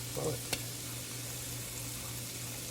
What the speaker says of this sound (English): Okay, to our pan we're going to add some onion.